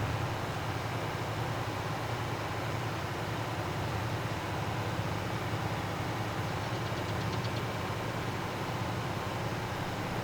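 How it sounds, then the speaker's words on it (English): A worn-out tractor engine in the video game Farming Simulator 22 drones steadily with a low rumbling idle and faint knocking, constant and close throughout with no talk. "Tractor is well and truly knackered."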